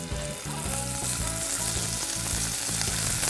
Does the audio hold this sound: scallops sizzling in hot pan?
yes